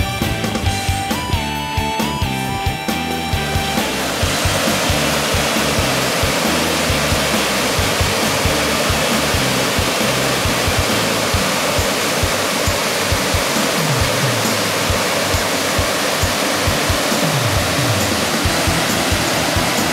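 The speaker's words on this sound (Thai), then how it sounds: "น้ำตกเขาช่องลม อ๋อ น้ำแรงมาก" Khao Chong Lom waterfall in Nakhon Nayok, its strong current rushing as a loud, steady, broadband roar that fills the scene, after a brief opening of tonal music.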